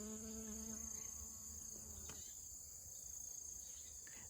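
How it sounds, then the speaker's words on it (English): Honeybees hum faintly around white snakeroot flowers while gathering pollen, a soft, steady buzz heard outdoors beside a thin, high insect trill. "Honeybees like it. You can see they're gathering the off-white colored pollen."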